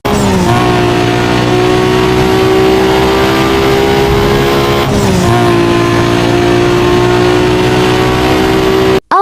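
Nissan Skyline R34 fitted with a Super Pro engine upgrade in Need for Speed Most Wanted, loud sustained engine whine climbing in pitch, dipping briefly at a gear shift midway, then pulling again before stopping suddenly.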